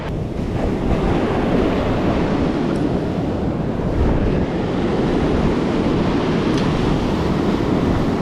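Surf breaking on a beach during fishing, with strong wind buffeting the microphone in a loud, continuous roar and the wash of waves underneath.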